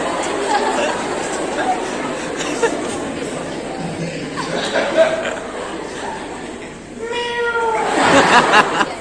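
Several people chatter and laugh at a church gathering, then a voice imitates a cat with a drawn-out meow near the end, followed by more laughter.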